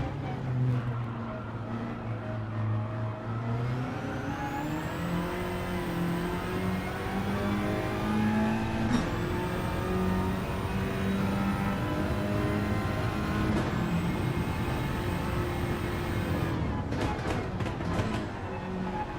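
Race cars lapping a track in a racing video game, a continuous loud engine drone with gear-shift pitch changes and rising revs, several cars layered together and a brief rattle near the end.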